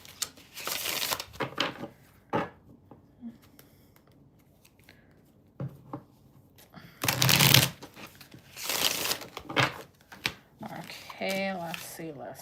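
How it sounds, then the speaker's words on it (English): A deck of tarot cards shuffled in several separate bursts, close and riffly, with quieter handling gaps between them and a voice speaking briefly near the end. "Fix these cards so I can shuffle."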